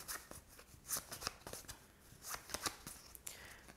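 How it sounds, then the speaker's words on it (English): Board game cards from a Viscounts of the West Kingdom playthrough being shuffled by hand, a series of quick papery riffles and slaps in irregular bursts, close and fairly quiet, with no talking. "so he has to shuffle."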